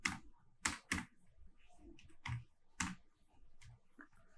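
Typing on a computer keyboard while entering a website name, with irregular bursts of clicky keystrokes spaced unevenly, fairly close and moderately loud, with no voices.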